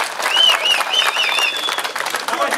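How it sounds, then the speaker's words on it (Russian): A crowd applauds the fighters after a bout, dense continuous clapping with whistles cutting through, close and lively for a couple of seconds. "Аплодисменты бойцам!"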